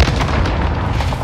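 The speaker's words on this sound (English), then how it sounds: "Cluster strike away." Cluster strike artillery explosions in a video game, a dense, loud, rumbling boom sustained across a short burst.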